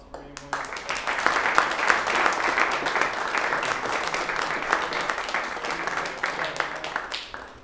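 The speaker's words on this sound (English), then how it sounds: "Let's have another round of applause for you." An audience breaks into sustained applause, dense steady clapping that starts abruptly, holds loud and even for several seconds, then tapers off.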